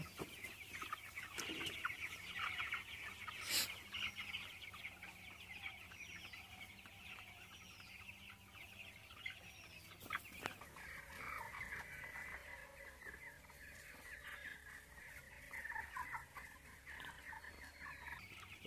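Broiler chicks in a poultry farm shed by an automatic drinker, a chorus of soft chirps and peeps with some clucking fowl, steady and moderately close over a low background hum, with no talking.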